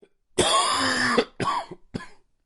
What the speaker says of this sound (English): his whole body subsumed by the raspy, racking cough.